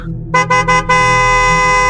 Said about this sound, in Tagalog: Bumusina ulit ang driver